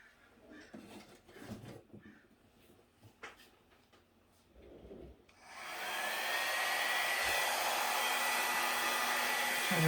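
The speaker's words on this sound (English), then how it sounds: "So I'm going to try the hair dryer." A hair dryer switches on partway through and blows loud and steady over an acrylic paint pour, after a stretch of quiet handling noises.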